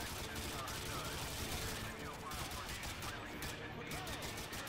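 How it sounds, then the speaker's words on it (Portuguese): Dense, continuous gunfire in the Call of Duty Modern Warfare 2 video game, rapid overlapping shots and bursts without pause, fairly quiet overall in the mix. "É muito tiro, mano"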